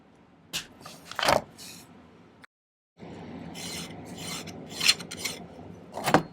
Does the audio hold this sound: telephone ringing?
no